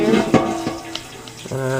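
Tap water runs steadily into a big pan in a sink, a close, continuous rushing with a resonant ringing as the pan fills.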